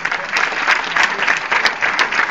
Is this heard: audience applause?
yes